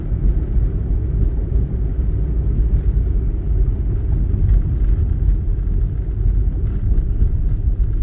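A 2001 Honda City cruising on an expressway, steady low road rumble and engine drone heard from inside the cabin, continuous and even with no talking.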